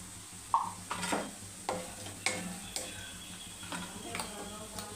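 Fish curry masala paste with turmeric frying in a pan, a steady sizzle broken by repeated scrapes and clinks of a spoon stirring against the pan, close and moderately loud, no talking.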